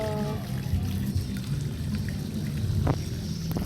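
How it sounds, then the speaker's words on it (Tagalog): Water pours steadily while a pet is showered, a continuous close splashing with faint trickles and small knocks. "Shower na si Mochi, guys"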